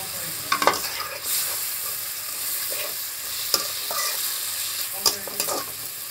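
Fried dried fish is added to vegetables in a pan and stirred, a close, steady sizzle punctuated by several scraping and clanking spatula strokes against the pan.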